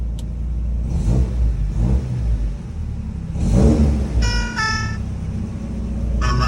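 A 1990 Miura Top Sport's engine idles close by and revs up in a couple of swelling bursts, with a short run of electronic beeping tones partway through.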